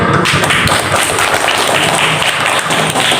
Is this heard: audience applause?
yes